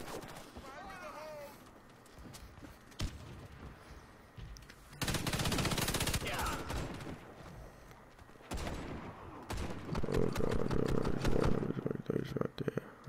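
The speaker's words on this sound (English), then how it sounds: "Just shoot everywhere. Just shoot every window." Warface gunfire on Xbox 360 comes in sustained machine-gun bursts, loud and dense, with several long rattling volleys separated by pauses, while players talk over it.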